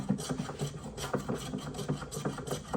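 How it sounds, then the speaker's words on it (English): A hand plane scrapes across wood in quick repeated strokes, each pass a short rasping shave, close and steady, while shaping a mallet. "I'm just gonna take a hand plane and make a couple shavings along those lines"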